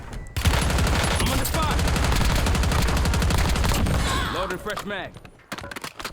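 Rapid, continuous bursts of automatic gunfire in Call of Duty: Warzone, loud and dense, tapering off into a few scattered shots as a voice talks.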